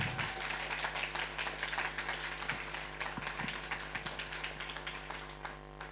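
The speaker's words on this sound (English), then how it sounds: "can we have one last round of applause for all of our dancers this evening?" Applause from an evening audience at a Strictly-style charity dance fundraiser, a dense continuous patter of many hands clapping steadily for the dancers, fairly distant and even throughout, with no talk over it.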